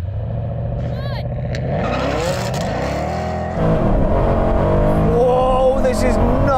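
AMG C63 Black Series and BMW M3 launching side by side in a drag race, engines revving loud and close then climbing through gears with rising, shifting roars, voices cheering over the noise.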